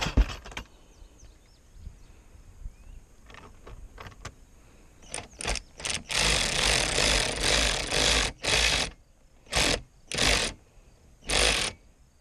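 A ratchet tightening 9/16 bolts to mount a solar street light on a pole: after a few light clicks, rapid ratcheting bursts repeat in several loud runs separated by short pauses.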